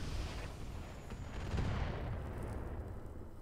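Mech weapons firing in the tactical game Roguetech, a dense continuous barrage of rumbling blasts and gunfire that stays loud and steady throughout, with no talking.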